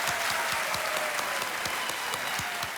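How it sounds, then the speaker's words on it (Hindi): A studio audience at the KBC Under 25 quiz show claps warmly for a contestant, dense and sustained applause with a few sharper individual claps standing out. "एक बार तालियां बज जाएं फिर इनके लिए"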